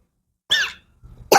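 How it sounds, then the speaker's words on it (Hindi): A person gives a single loud, harsh cough up close, followed after a short pause by a softer breathy rasp and the start of another cough. "बहुत खांसी आ रही है।"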